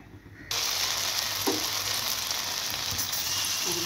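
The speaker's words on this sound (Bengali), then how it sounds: "কড়াতে সাদা তেল বসিয়ে দিয়েছি, এবার আমি এটাকে ভাজবো" Balls of homemade paneer fry in white oil in a kadai, giving a steady, close sizzle that starts abruptly as they go in and then holds with soft bubbling crackle.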